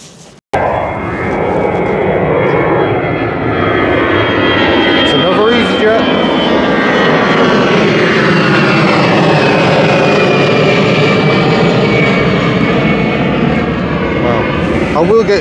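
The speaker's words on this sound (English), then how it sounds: "Planes." A loud airplane roars overhead, its engine noise swelling and sweeping continuously for the whole stretch, nearby and steady.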